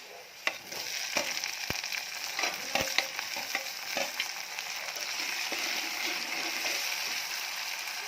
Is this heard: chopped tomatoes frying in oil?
yes